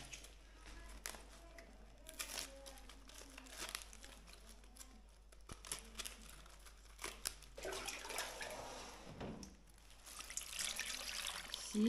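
Faint running water in a rural farmhouse kitchen while cabbage is washed, a soft trickle mixed with crinkling and rustling of handled leaves and brief clatters.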